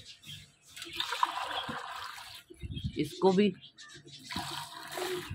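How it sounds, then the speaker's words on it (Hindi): Water splashes and trickles in short, quiet bursts as it is poured into bird water bowls for pigeons and lovebirds, with a voice speaking briefly between pours. "तो पानी डालते हैं पहले"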